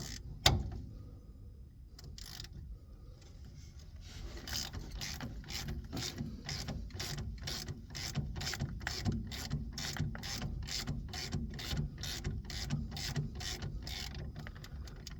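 Wrench ratcheting on a 13/16 brake bolt of a 1954 Mercury Monterey, with a sharp crack as the bolt breaks loose, then a steady run of close, rapid metallic ratchet clicks.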